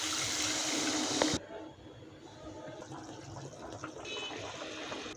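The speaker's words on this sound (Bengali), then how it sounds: "এবার জল দিয়ে দিলাম" Water is poured into a pot of fish curry with fried fish, potatoes, salt, turmeric and chili powder: a loud, close rushing splash that stops abruptly after about a second and a half, leaving quiet kitchen room noise.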